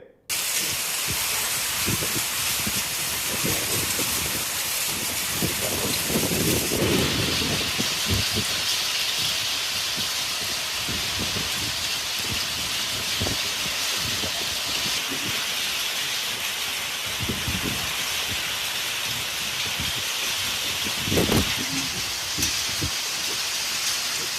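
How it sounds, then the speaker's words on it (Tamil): Heavy evening rain driven by strong wind in Krishnagiri district, a steady loud broadband wash of downpour and gusts with a few louder surges, continuous throughout and with no voices. "மாலையில் பலத்த காற்றுடன் மழை பெய்தது"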